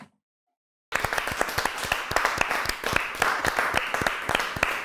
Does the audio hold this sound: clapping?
yes